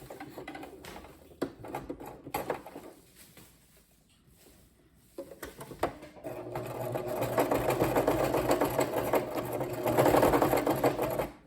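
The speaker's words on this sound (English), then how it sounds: "I am going to put this on, let's see, number 3 on my machine, which is a small zigzag." A sewing machine runs a small zigzag stitch across a tiny piece of sample-book fabric, starting in short bursts, pausing briefly, then settling into a steady, close, continuous whir that swells toward the end.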